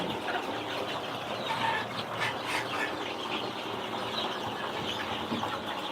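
Chickens on a poultry farm clucking steadily amid a dense, continuous flock murmur, with no single bird standing out and no talk.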